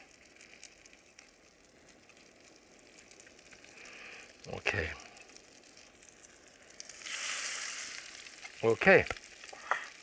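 Breaded fish fries in a pan, a faint steady sizzle broken by a few sharp utensil clinks and a swell of hissing, while a voice briefly speaks.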